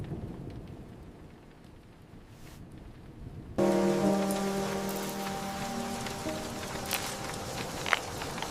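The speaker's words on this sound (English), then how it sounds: "just in time for the rain." Rain falls after a quiet, faint start, then settles into a steady, close patter with occasional louder drops and a faint low rumble underneath.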